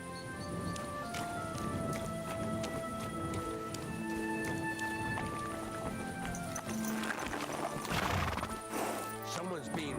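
A horse in the medieval video game Kingdom Come: Deliverance 2 whinnies loudly while hooves clop steadily, layered over dense game ambience and music at a constant level.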